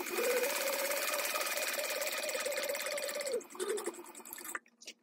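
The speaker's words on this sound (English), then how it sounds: "And now I'm going to top stitch an eighth of an inch away down both long" A sewing machine runs steadily while top stitching an eighth of an inch from the long edges of a fabric Hydro Pouch, a continuous even hum that slows and stops near the end, followed by a few small handling clicks.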